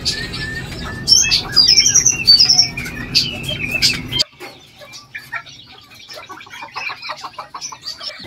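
Fan-tailed Malay ornamental chickens cluck and chirp close by at a small farm, a busy flurry of calls and squawks that drops abruptly to a quieter background of faint, scattered clucking.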